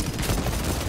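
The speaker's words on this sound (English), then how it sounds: "Gunshots?" Dense, overlapping gunfire from a Space Marine 2 PvP match, a short continuous burst of rapid shots heard up close with no pauses.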